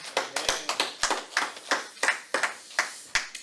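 Rhythmic clapping from a church congregation at a Friday worship service, steady claps at a moderate pace, moderately loud and fairly close, with no talking.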